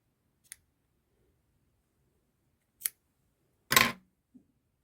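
Scissors snip knitting yarn in a quiet room, three sharp isolated clicks with one louder, longer cut near the end and a faint tap after it, close and with no talking.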